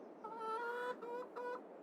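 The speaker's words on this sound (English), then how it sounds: "more chickens and a couple roosters." Chickens and a couple of roosters in the Farming Simulator 22 video game, heard as a close cluster of clucking calls in three bursts over a steady farmyard background, with no talking.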